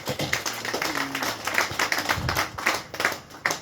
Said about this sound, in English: Put your hands together for the farmers.